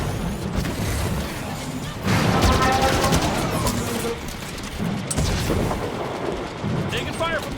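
A battle in the Halo 5: Guardians video game: rolling gunfire and heavy booming explosions, with a louder stretch in the middle, under occasional radio-style game dialogue.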